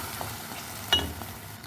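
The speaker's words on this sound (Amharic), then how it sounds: "አብረን ጥብስ እያደረግናቸው" Eggplant and other vegetables frying together in a pan with garlic and ginger for an Ethiopian fasting dish, a steady close sizzle with a sharp spattering pop near the middle and light stirring sounds, no voices.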